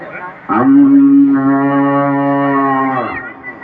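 A buffalo or calf lets out one loud, close, drawn-out moo lasting about two and a half seconds, steady and droning before it trails off, heard alone with no talking over it.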